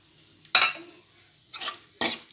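Chopped onion and garlic sauté in a pan with toasted lentils for a mango kuzhambu, heard as three loud scraping stirs of a spatula against the pan over a faint sizzle, no voices.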